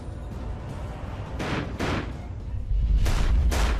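Several loud gunshots ring out in close succession: sharp booms in two pairs over a low background rumble, with a sense of muffled distance as if heard from inside a cooler.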